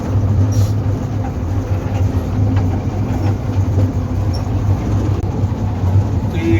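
Continuous low rumble and hum of a toy train ride in Ooty moving slowly at about 10 to 20 km per hour, steady and close, with faint rattling throughout.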